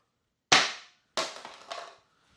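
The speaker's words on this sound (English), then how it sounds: "So we're going to drop it empty." An empty foam cannon for a pressure washer is dropped onto the floor, giving two sharp clattering impacts with a short rattle after the second, loud and close with no talk.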